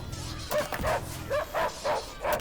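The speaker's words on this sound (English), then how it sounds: "Okay, the dogs are already retreating." Doberman dogs in the game Tabletop Tavern bark in a quick series of about six sharp yips and woofs, fairly close and loud, with a low background hum beneath.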